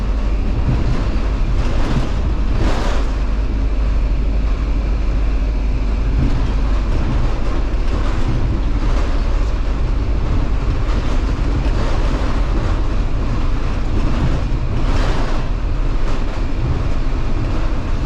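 A train rumbles past nearby in Penang, Malaysia, loud and continuous, with rhythmic clattering of wheels over rail joints.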